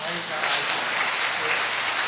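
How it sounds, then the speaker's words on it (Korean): Applause from an audience at a church family-life gathering, a steady dense wash of clapping lasting about two seconds with faint voices mixed in. "박수 한번 쳐주세요."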